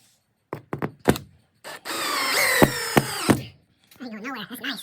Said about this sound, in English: Now I'm just going to go ahead and screw these babies into those drywall screws.